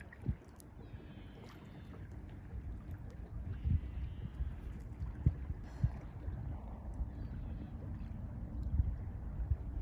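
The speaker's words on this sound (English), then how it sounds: "There are a lot of fishing boats out here today." Low engine rumble of fishing boats out on open water in cold weather, with wind buffeting the microphone and occasional knocks and splashes close by.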